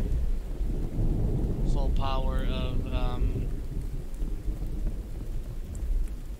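Rain and thunder in the survival game The Infected roll on as a dense, steady low rumble and patter from start to finish, with a brief voice speaking over it partway through.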